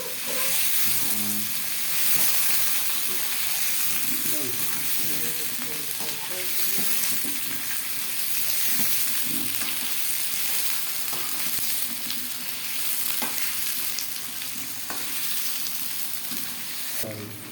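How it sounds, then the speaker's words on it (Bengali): Fish frying in a pan and being stirred, a steady broadband sizzle with scraping utensil strokes throughout, close and continuous, with faint talk in the background. "ফ্রাই করতেছি একটু করে হালকা করে ফ্রাই করবো এগুলো। নাড়া দিতে হবে।"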